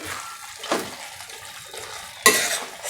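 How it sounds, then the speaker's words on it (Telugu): A spoon stirs tomato methi curry sprinkled with coriander in a pan at home, giving two brief scraping clanks against the metal over a low background hiss. "లాస్ట్లో కొత్తిమీర చల్లేసుకొని కొత్తిమీర వేసుకొని ఒకసారి కలిపి"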